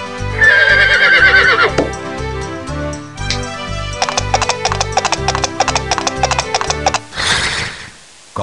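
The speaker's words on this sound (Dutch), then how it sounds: "Hij wenste een paard." A loud, close horse whinny, then rapid clip-clop hoofbeats and a final snort, with a crisp quality, from the 1996 PC game De vis die kon wensen.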